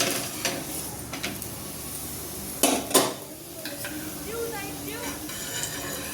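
Small cabbage paratha roasting with ghee on a pan over low gas, a soft steady sizzle with a few sharp clicks and scrapes of a utensil against the pan, close by, with occasional talk.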